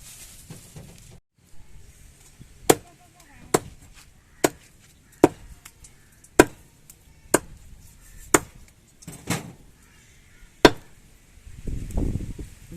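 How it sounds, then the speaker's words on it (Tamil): A knife chops through a kilo of chicken at high speed, sharp thuds landing roughly once a second in a steady run, loud and close with quiet gaps between strikes. "ஒரு கிலோ சிக்கனை ஒரு நிமிஷத்தில் வெட்டி முடிச்ச"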